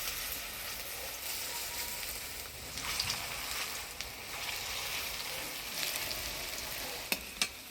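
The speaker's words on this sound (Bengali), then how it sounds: "এবার একটা একটা করে কোপ্তাগুলো ভাজিয়ে নেবো" Egg and cabbage koftas fry in hot oil, a soft continuous sizzle and crackle with a few light clinks of a utensil, fairly quiet and without talk.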